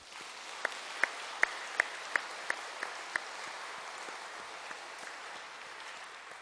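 A congregation at a Korean Holiness church Sunday service in Cheonan applauds at the first service of the new year, a steady broad patter of clapping with a few sharp louder claps early on.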